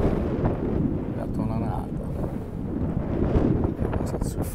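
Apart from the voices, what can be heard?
wind blowing at a beach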